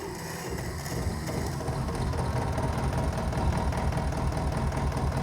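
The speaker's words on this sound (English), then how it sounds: "Just listen to this engine." A vintage farm tractor already kept on the farm runs steadily nearby, its old engine chugging and rattling in a continuous mechanical rhythm, loud and alone without speech.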